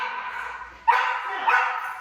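Dogs bark in an indoor dog training room, two sharp bursts at about one second and one and a half seconds rising over steady room noise and faint background voices.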